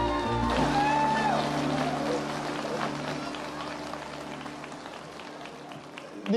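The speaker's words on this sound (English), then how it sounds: "These guys have to clap." Conference crowd at a Linux World event applauds as the chair is welcomed on stage, a broad sustained wash of clapping over a fading musical tone that gradually softens across the clip.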